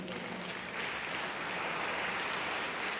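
A church congregation at a celebration service applauds steadily, a full and continuous wash of many hands clapping throughout.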